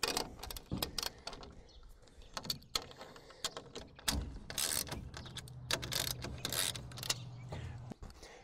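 Bolts are loosened on a TruXedo Deuce truck bed cover with a ratcheting tool, giving quiet, irregular clicks and metallic taps, plus a brief low buzzing stretch near the end.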